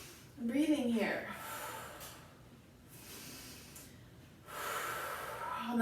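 Deep breathing during a gentle seated chair yoga flow with arms lifted overhead: a strong audible inhale near the start, then softer airy breaths and a rising exhale toward the end.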